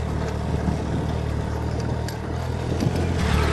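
Off-road motorbike engine on a rough trail, a steady mid-pitched running drone with small rises in revs, fairly close and continuous throughout.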